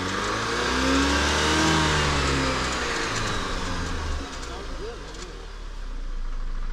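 A 2016 Jeep Patriot engine runs loudly and close, revving up in a long rising-and-falling sweep, then settling toward a steady drone with a brief dip near the end.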